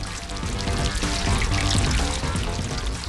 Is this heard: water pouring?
yes